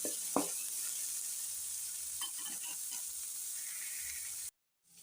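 Vegetables with a couple of spoons of salt sizzle steadily in a hot pan for veg fried rice, with scraping stir strokes and a sharp utensil knock near the start before the frying cuts out at the end.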